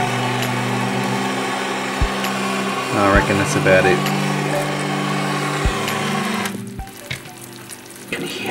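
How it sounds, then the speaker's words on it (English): Caramelized sugar topping on a creme brulee cracks and bubbles under a blowtorch, a steady close hiss with a few sharp crackles before the flame stops, and someone talks briefly at the end. "You can hear it cracking and bubbling."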